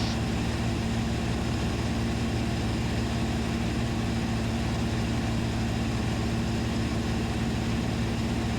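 A light aircraft engine drones loudly and steadily on approach to land on a grass runway, with a constant propeller hum filling the cabin without pause.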